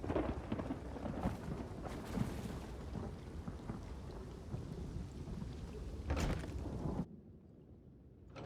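A rolling thunderstorm in The Elder Scrolls Online, with heavy rain hissing steadily and low thunder rumbling throughout, a louder swell near the end before it drops away to quieter background.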